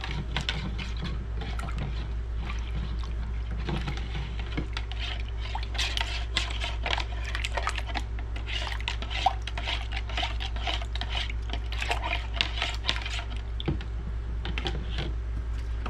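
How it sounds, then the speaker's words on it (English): Spoon clinking and scraping against a bowl as sugar-free jello mix is stirred into hot water until dissolved, a brisk irregular series of close taps and clicks running continuously. "And we're going to stir this until it's dissolved."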